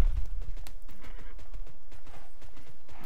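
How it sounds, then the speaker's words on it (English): Horse mount galloping in the Tera video game, a steady close clip-clop of hooves with a whinny near the start, loud and alone. "I just want to ride a little further."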